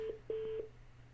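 A mobile phone gives a short notification of three quick electronic beeps in a row, close and clear over a faint steady hum, with no talking.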